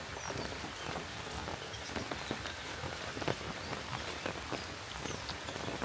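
Rain falls on a rooftop garden in a soft, continuous patter of scattered drops, fairly faint and steady with no voices.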